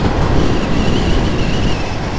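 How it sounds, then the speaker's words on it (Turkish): A train rolls past close by with a loud, steady rumble and rail noise that holds for the whole stretch without a break. "Tren de geliyor."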